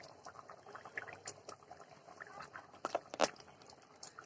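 Fish curry cooks quietly on a clay stove, with soft bubbling, small wet pops and splats as the fish pieces drop into the simmering sauce.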